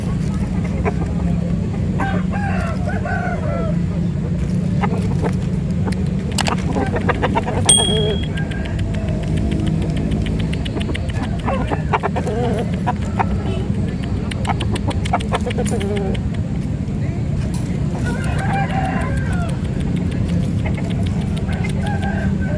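Chickens crow and cluck throughout a busy chicken market in Daya, Makassar, with roosters calling over a constant crowd murmur and faint voices nearby.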